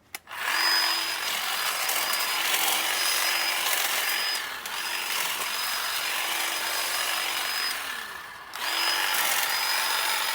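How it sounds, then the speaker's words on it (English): A LYNXX 40-volt cordless hedge trimmer cuts overhanging branches at a fence, its steady high motor whine running loud with brief dips as blades bite wood and a short pause near the end before it revs again. "one more example of how easily this hedge trimmer cuts"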